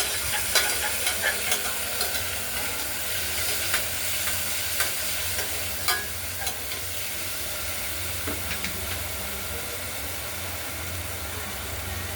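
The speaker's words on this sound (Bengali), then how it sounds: "পুরোটা দিয়ে একটু নেড়ে চেড়ে নেবো, খুব ভাজবো না" Mung dal stirred and lightly fried in a pressure cooker gives a steady, moderate sizzle under repeated scraping of the spoon against the pot, heard up close with no one talking.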